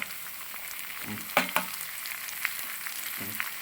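Chopped small shallots sizzle steadily in hot oil in a pan for a Kerala clam roast, with a few sharp clicks of stirring against the pan; no one speaks.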